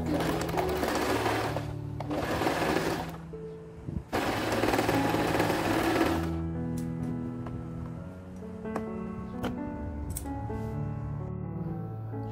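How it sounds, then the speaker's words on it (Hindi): Sewing machine stitching both sides of an under-scarf cap for a hijab, heard as three close bursts of rapid, steady needle chatter over the first six seconds, then stopping and giving way to quieter ticks over a steady tonal background. "दोनों साइड्स पर हम इसी तरह से सिलाई कर लेंगे।"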